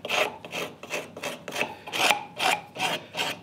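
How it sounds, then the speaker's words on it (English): Sandpaper rubs back and forth over a wooden marking gauge in steady, rhythmic strokes, about eight rasping passes in a few seconds, close and clear with no talk. "we can use sandpaper too."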